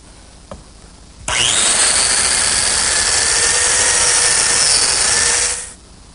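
A biscuit joiner spins up and runs for about four seconds cutting a slot in a wooden table leg, a loud high whine over hissing wood cutting, preceded by a small click and ending as the motor stops.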